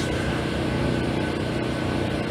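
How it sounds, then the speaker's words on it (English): A generator running steadily at a campsite, a constant low mechanical hum with a droning tone that stays even and fairly loud for the whole stretch, with no voices. "You might be able to hear the generator in the background."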